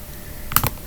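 A pair of quick, crisp computer mouse clicks sound close up against a quiet room, with no talking.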